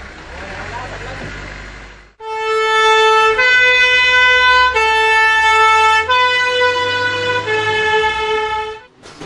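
Fire engines responding to an alert, with a loud two-tone siren blaring close by after a brief rumble of engines, holding steady for several seconds.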